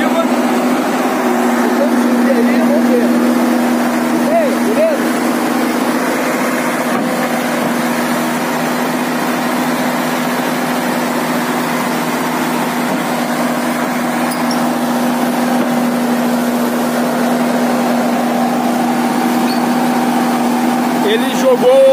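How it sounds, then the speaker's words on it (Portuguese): A heavy diesel excavator engine hums loudly and continuously at a steady pitch, with occasional strain, as it climbs onto a flatbed truck, while voices talk faintly over it. "Motor de tração aí da escavadeira"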